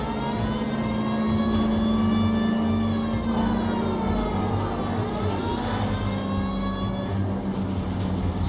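A police car in the L.A. Noire video game drives along loudly with its siren wailing in long rising and falling sweeps over a steady engine drone.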